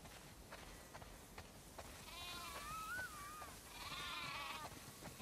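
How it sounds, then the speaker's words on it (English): Sheep in a barn in the video game The Last of Us Part 2 give faint wavering bleats, a couple of calls over soft background noise. "Wow, that's a lot of sheep."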